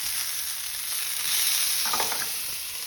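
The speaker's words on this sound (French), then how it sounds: "j'ai mis de l'huile dans ma poêle et je fais revenir mon filet mignon hein, pour qu'il soit bien doré" Filet mignon browns in oil in a frying pan with a steady, close hiss, and a brief burst of livelier crackle comes near the end.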